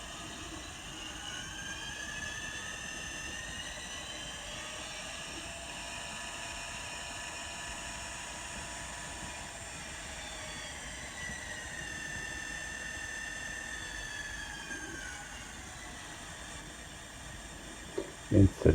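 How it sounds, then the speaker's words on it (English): An N scale Kato SD40-2 model locomotive with DCC sound plays a steady, thin electronic diesel engine hum with tonal whine, small and close, ending in a few sharp clicks. "So the bell, the horn, give it some throttle."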